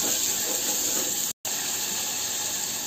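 Finely chopped onions dropped into hot oil with cumin for a spiced tinda vegetable dish, a loud, steady frying hiss broken by one brief silent gap, no voices.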